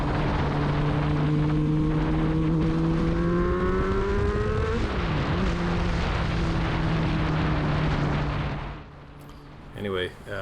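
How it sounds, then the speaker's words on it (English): Kawasaki ZRX-1100 motorcycle engine during a sunset road ride, a loud steady drone that rises in pitch through the gears and dips once briefly before fading out near the end. "I'm gonna let you hear the bike here for a second."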